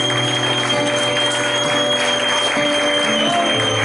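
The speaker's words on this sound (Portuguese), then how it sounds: "Você pode dar aplauso ao Senhor por essa palavra?" Congregation applauding in a church during a service, a steady dense wash of clapping that holds at an even level throughout, with faint sustained tones running underneath.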